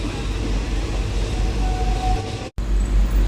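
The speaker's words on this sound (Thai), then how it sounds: "บรรยากาศบนรถไฟนะครับ" Loud, constant rumble and rattle inside a moving passenger train, with deep low-end roar and clatter, briefly cut out by an abrupt drop near the end before the noise resumes.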